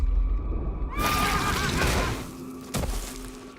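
A horse whinnies in a tabletop role-play game session, a single rising, quavering neigh running for about a second over a steady background hum, followed by a sharp thump.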